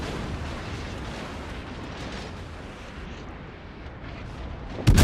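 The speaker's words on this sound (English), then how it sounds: "I got 2 ships shooting at me though." Naval shells from two enemy ships fire and land around a warship in a video game, a rumbling wash of distant booms that ends in a sharp, loud blast.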